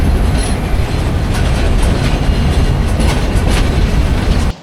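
A late night Agnibina express takes a curve on the Mymensingh to Dhaka line: a loud, close, continuous roar with clickety-clack and faint high wheel squeals, cutting off abruptly at the end.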